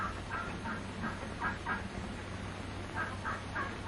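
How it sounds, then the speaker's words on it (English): Turkey gobbler on a farm turkey yard, repeated short gobbling bursts at a steady rhythm, fairly faint and distant over a low hum. "He hears a turkey gobbler who flew over the fence of the turkey yard"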